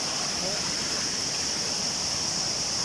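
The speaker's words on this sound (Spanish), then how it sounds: "nos vamos a meter y les vamos a enseñar un poquito de la primera cascada" Steady broadband rush of falling water at the entrance to the first waterfall, a continuous hiss close by with no breaks and no voices.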